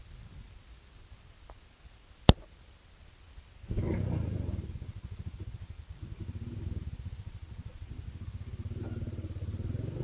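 A motorcycle rides along a city street in Karamana, starting with one sharp click and then a close, rumbling engine that grows louder and holds steady with a throbbing idle-like pulse.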